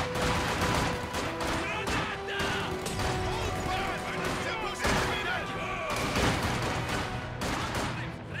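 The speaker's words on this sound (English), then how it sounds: "HMG to suppress those Panzer grenadiers." Heavy machine gun fire rattles in dense, continuous bursts during a Company of Heroes 2 battle against Panzer grenadiers, loud and close, mixed with crashes, explosions and voices talking over the din.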